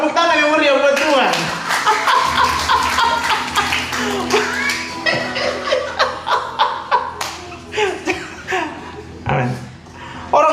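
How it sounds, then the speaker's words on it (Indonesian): A church congregation claps at length while loud voices and laughter carry over the clapping. The claps start dense and then thin into scattered individual slaps. "Tepuk tangan yang meriah buat Tuhan."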